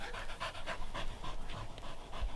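A Springer spaniel pants rapidly and steadily at close range during outdoor field training, quick rhythmic breaths continuing throughout with no speech over them.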